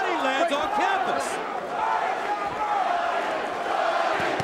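Boxing arena crowd at a John Duddy versus Luis Ramon Campas fight, a continuous roar of cheering and shouting held under a commentator's voice.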